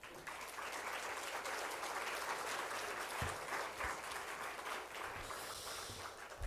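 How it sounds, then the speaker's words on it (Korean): Sustained applause from a church congregation during a Sunday worship service, welcoming a pastor to the pulpit; steady, even clapping fills the room for several seconds with no talk over it. "다 같이 환영하는 뜻에서 박수로 환영해 주시기 바랍니다."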